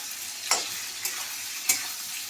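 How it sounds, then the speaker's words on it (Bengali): Potatoes frying in spice paste for a Bengali fish curry, a soft continuous sizzle broken by three sharp scrapes of a spatula against the pan. "আলুটাকে একটু ভাজা ভাজা করছি।"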